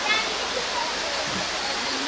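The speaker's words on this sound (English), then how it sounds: "That's where the waterfall's really coming down." Katoomba Cascade waterfall in the Blue Mountains, Australia, heard as a continuous broadband rush of falling water, steady and fairly close, with no breaks across the short stretch.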